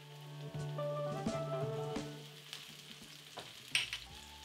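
Garlic added to lightly browned onions in a hot pan for a three bean stew, giving a faint steady sizzle with a few light clinks and scrapes, quiet and without talking.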